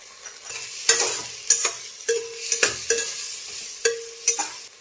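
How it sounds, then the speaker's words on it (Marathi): Moth beans (matki) fry in an oil tempering with salt and asafoetida for misal, a spoon scraping the pan in about eight sharp, rhythmic strokes over a soft sizzle, close up and with no talk. "मटकी ना छान अशी हलवून घेतलेली आहे"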